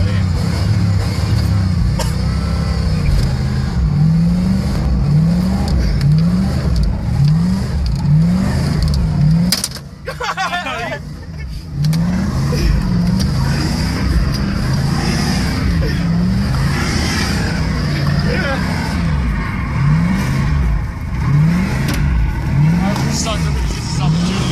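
A truck engine revs hard during a burnout, its loud rising-and-falling surges repeating in a rhythmic pattern, briefly cutting out midway before roaring again, with people talking over it.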